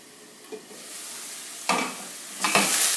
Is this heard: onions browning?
yes